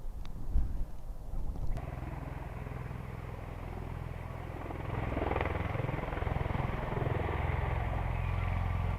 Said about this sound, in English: it's the V-22 Osprey. You see, takes off like a helicopter and then turns into an aeroplane.